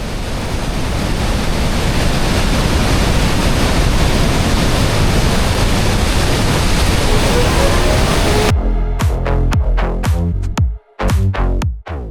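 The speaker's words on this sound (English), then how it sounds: "you're going to come to parts where the waterfall actually crashes down on the boardwalks" Waterfall at the Cave of the Winds, Niagara Falls, crashing down onto the wooden boardwalks, a loud, dense, unbroken roar of pounding water that cuts off abruptly near the end into sharp, scattered splashes.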